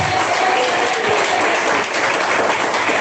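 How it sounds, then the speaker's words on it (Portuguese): A church congregation claps in praise, a loud, dense and continuous wash of applause that holds steady for the whole stretch with no voices over it. "Bate mais palmas da glória a Deus"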